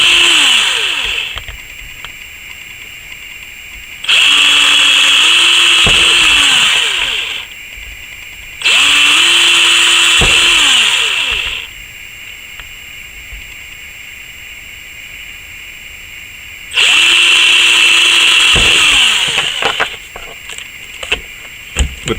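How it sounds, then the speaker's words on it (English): Power drill boring out the corner holes of a cutout for a DIY plug-in LED lighting setup, three loud sustained bursts of a couple of seconds each, separated by quieter gaps, close by and with no talk. "I start off drilling first, just drilling out the corners."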